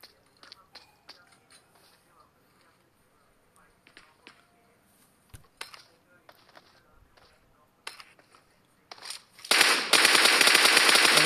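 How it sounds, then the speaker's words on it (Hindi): Scattered PUBG Mobile gunshots crack in sharp single shots and short bursts, near and far, before heavy continuous fire erupts loudly at the end. "उन पर फायरिंग की जा रही है"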